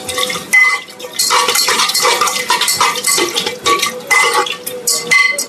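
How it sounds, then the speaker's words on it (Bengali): A spoon stirs chicken curry with kasuri methi, cloves and cinnamon in a pan, giving repeated metallic scrapes and clinks against the pan in an irregular, close rhythm with no talking. "এবার দিয়ে এটাকে ভালো করে নাড়াতে হবে"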